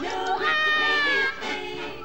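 A cat meows in a 1979 animated film trailer, one drawn-out, plaintive meow followed by a shorter second one, clear and close.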